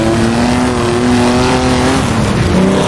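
A Silver Arrows pre-war Grand Prix race car racing around Battenberg: a loud, close engine drone holds steady, then its pitch drops as the car shifts up into fourth gear near the end.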